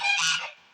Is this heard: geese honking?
yes